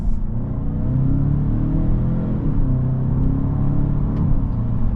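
Engine sound of a 2025 Genesis G70 2.5T sports sedan piped into the cabin, a steady loud low rumbling drone while driving, continuous and close with no talking.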